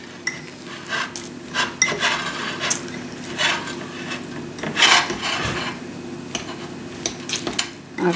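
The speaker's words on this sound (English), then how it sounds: "I'm going to do is just mix all this together according to Wilma's instructions" Bunya nuts, apple and rhubarb are stirred together with olive oil for a crumble, making a steady rough scraping and rasping of a utensil against a bowl, close and uneven, with occasional louder knocks.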